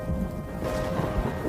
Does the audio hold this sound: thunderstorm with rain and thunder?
yes